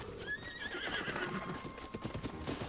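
A horse's hooves clip-clop at a quick pace in The Legend of Zelda: Tears of the Kingdom while it whinnies with a high, wavering neigh, game-like and fairly close.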